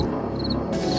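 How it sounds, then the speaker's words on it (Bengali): Crickets chirp on a dark, misty new-moon night beside a village palm pond, a steady close shrill trill that holds continuously without pause. "ঝিঝি পোকার ডাক"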